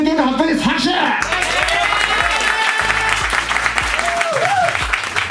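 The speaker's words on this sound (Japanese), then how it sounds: "拍手。" Staff at a host club sales-ranking announcement break into applause, a busy patter of clapping running throughout. Voices call out and talk over it, with steady background music underneath.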